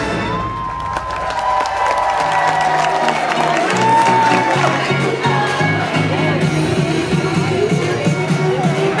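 At a dance party, a crowd cheers, whoops and claps with a dense, loud roar that builds after the first second and holds steady, with shouting voices mixed in.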